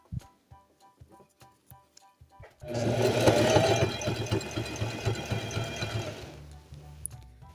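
A domestic sewing machine stitches elastic onto cotton underwear, with a few scattered clicks and taps before a loud, rapid mechanical whirr runs for several seconds and then stops.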